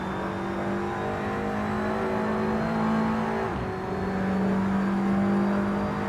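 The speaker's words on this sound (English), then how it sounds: "You can almost hear the car accelerating when he opens up that steering wheel" A touring race car accelerates in a TCR Europe sim racing event at Le Castellet, its engine a steady droning whine that holds and shifts pitch slightly throughout, with no commentary over it.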